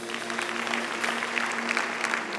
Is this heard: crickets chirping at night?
no